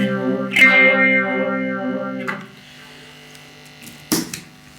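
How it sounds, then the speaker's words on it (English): An electric guitar plays sustained notes through a phaser that sweeps them in slow swirling waves, with a couple of sharp picked attacks fading into quiet. "So that's our phaser pedal"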